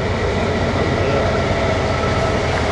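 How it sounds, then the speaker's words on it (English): An Amtrak passenger train passes close by with a loud steady roar and rumble of wheels on rails, filling the whole moment with no voice. "Here comes the train, folks."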